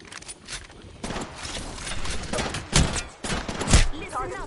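Bursts of gunfire in a fast-paced Apex Legends firefight: rapid volleys and two sharp, loud shot cracks stand out over a busy, dense mix of game sound.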